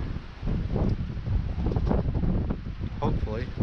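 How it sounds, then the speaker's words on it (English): Gusty wind during tornado season outdoors after leaving a storm cellar, rough buffeting rumble hitting the microphone throughout while a person talks over it. "We're getting a little wind now, guys."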